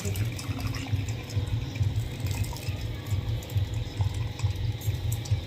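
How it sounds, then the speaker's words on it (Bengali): Faint running water from a tap rinses chhana (cottage cheese) curdled with lemon, made for rasgulla, a steady low splashing trickle heard alone with no voices. "আমি এবার জল দিয়ে একটু ধুয়ে নেবো ছানাটাকে ভালো করে"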